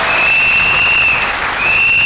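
A church congregation claps in praise of the word of God, a dense, loud burst of applause filling two seconds, with a sustained high whistle rising above it.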